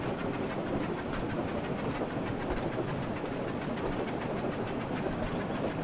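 A moving train in a video game rolls along with a steady, dense rumble and faint rhythmic clatter, loud and unbroken throughout with no voices.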